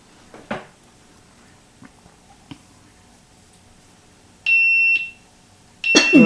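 Quiet handling clicks, then two short, high electronic beeps from a GoPro Hero 7 Silver camera warning of no SD card, a second or so apart, clear and close.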